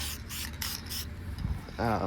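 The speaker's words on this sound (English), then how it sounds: "a little bit of spray paint" Several quick hissing bursts of spray paint in a row, close by, on trailer latches, followed by a voice beginning to speak.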